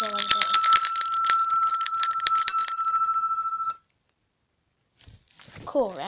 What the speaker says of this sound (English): I actually want to show you a trick with the bell.